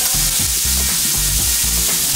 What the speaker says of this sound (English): Some fresh garlic on top of the onion. Stir that around and fry till fragrant.